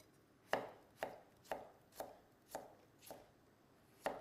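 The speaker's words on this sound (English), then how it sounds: "we're just going to cut all these carrots into little ribbons" A knife chops carrots into thin ribbons on a board, seven sharp, evenly spaced strokes about half a second apart, close and clear with no talking.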